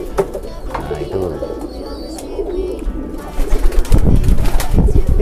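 Pigeons coo in a loft, low soft rolling calls mixed with bird chatter, wing flutters and nearby people talking.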